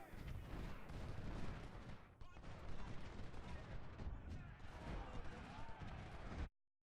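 Continuous musket volleys and booming artillery in the Civil War strategy game Ultimate General: Civil War at First Bull Run, a dense rumbling battle din that stops abruptly near the end, with someone talking over it.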